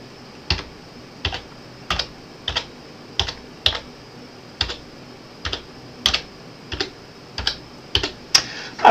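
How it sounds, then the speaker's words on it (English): Fingers type a wireless password on a computer keyboard: about fourteen distinct key clicks, spaced fairly evenly and sounding close and crisp, with a quicker cluster of taps at the very end. "So okay, so I'm just going to type my wireless password."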